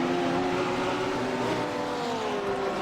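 GT3 race cars, a field of Audis, Porsches and BMWs, roar past at the Detroit street circuit, a steady loud blend of engines at high revs with no voices over it.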